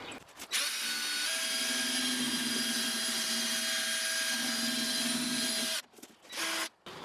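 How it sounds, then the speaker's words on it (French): A power-driven wire brush grinds rust off the steel seat frame of a Renault Master van, a steady loud whirring scrub lasting about five seconds before it cuts off and briefly restarts. "je vais y aller à la brosse métallique, je vais virer tout ça"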